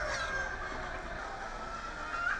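Laying hens on a poultry farm in hot weather cluck faintly and steadily against a constant background hum, with no talk.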